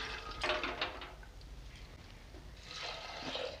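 Chana dal, 150 grams of split Bengal gram, poured into a pressure cooker, giving a soft rattling, rushing pour near the start and again at the end, with a quieter gap between.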